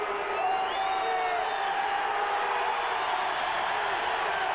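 Hockey arena crowd during an NHL game between the Montreal Canadiens and Boston Bruins, a broad steady roar of cheering with a few whistles and whoops rising above it.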